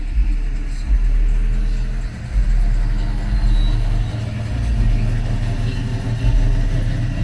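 A neighbor's car sits nearby with its engine idling, a steady low rumble that holds evenly throughout with slight swells, heard outdoors on a residential street.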